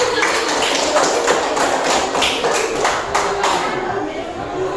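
A sixth-grade class claps their hands together in a quick series of sharp, rhythmic claps that fade toward the end, with voices mixed in.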